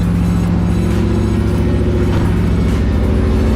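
Subaru STI rally car engine running at a loud, steady idle with a deep, throbbing burble and even pulses, very close and filling the space without talk.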